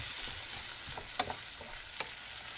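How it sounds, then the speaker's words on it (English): Tomatoes and onions being stirred in a hot pan for a Thanksgiving side dish, with a continuous hissing sizzle and two distinct knocks of the utensil against the pan, close and unhurried. "So now we're going to put in our tomatoes. And now we're just going to mix it together."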